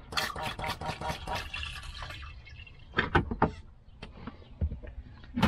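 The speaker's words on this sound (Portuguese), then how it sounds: "E aqui dá descarga." A cassette toilet flushes inside a Niewiadow caravan with a quiet rush of water, short splashes and drips, and a few brief gurgling bursts toward the end.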